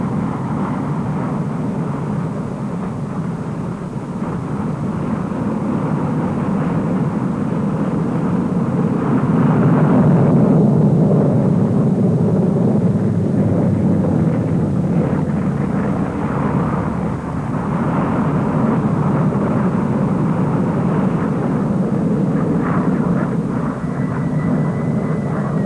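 Aircraft at the Farnborough air show fly a display with coloured smoke and then touch down in a formation landing, a loud, steady engine roar filling the air throughout with a slight swell in the middle, and no voices.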